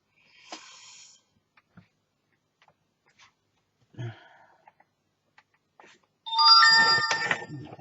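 Telephone ringing indoors during a paper card-making session, a loud electronic ring bursting out near the end after a stretch of faint scattered taps and small handling noises.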